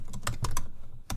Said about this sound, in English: here you want to type the name of the file that you have created